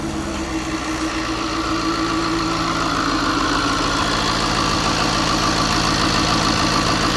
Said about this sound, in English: Valve's closed, the motor's running.